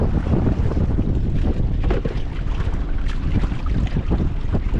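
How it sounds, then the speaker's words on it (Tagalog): Strong wind roars and buffets the microphone loudly and continuously, with rushing water and a boat's rumble underneath. "Ang lakas ng hangin mga kaidol."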